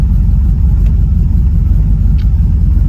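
A second-generation Pontiac Firebird with an LS swapped V8 idling, a loud, steady, deep rumbling burble close by that holds even throughout with no revving.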